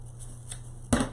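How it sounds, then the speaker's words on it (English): Scissors make one quick, crisp snip through a loop of raffia, heard close and alone after a moment of quiet. "I'm cutting the loop, and then I'm going to cut the loop"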